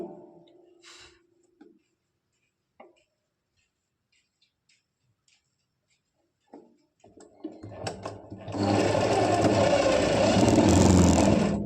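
After a few quiet clicks and handling taps, a sewing machine starts up and stitches a palazzo seam, a loud close whirring drone that holds steady through the final few seconds.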